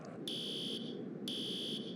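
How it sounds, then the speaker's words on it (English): A school fire alarm rings in two loud, shrill electronic pulses of about half a second each, one second apart, over a low steady background hum. "I can't believe I actually pulled the fire alarm and made everyone evacuate the school building"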